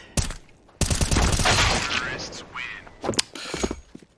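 AK rifle fire in a Counter-Strike esports match: sharp gunshot bursts with short gaps, loud and close, mixed with game sounds.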